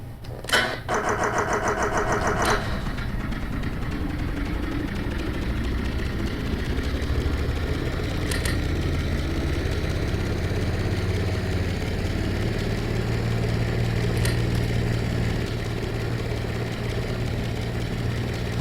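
A vehicle engine in the game Stormworks cranks with rapid chugging bursts for a couple of seconds, then settles into a steady, loud, droning idle that continues to the end.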